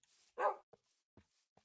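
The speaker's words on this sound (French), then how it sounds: "J'ai entendu mon chien mourir." A dog in the Minecraft video game gives a short burst of whimpering yelps followed by a few faint, sharp clicks, quiet and sparse against silence.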